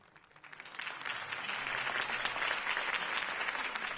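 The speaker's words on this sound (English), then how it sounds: "If only Mr. Wayne, my campaign's largest backer, could have heard that applause" Crowd applause following a campaign speech in a Batman video game, rising quickly after a quiet start into a sustained, fairly distant wash of clapping from a large audience.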